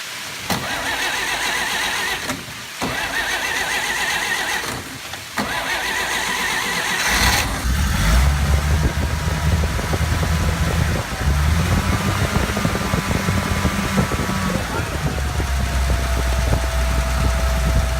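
A 1941 Dodge WC12 military truck engine, newly fitted with an alternator, cranks in several long grinding bursts before catching and running into a loud, rough idle that rises slightly in pitch as it settles.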